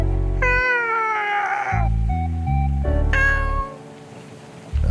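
A cat meows loudly twice, long drawn-out cries with a plaintive rising and falling pitch, set over low spooky background music.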